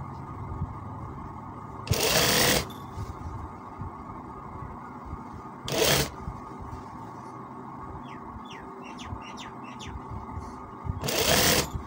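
A sewing machine runs in three short, loud bursts while attaching a sleeve to a kameez, with quiet pauses between runs and faint background chirps, close by and without speech.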